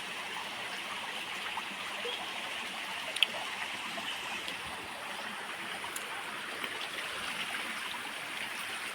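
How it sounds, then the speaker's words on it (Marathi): A mountain river in the Konkan region flows in a steady, even rush of water, moderately loud and continuous throughout, with no talk. "ही अशी नदी आली."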